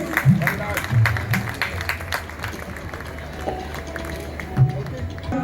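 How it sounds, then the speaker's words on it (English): Audience at a school annual function applauding prize winners with scattered, crisp claps across the hall, mixed with background voices and murmuring. "I request you all to please give them a big round of applause for their achievements."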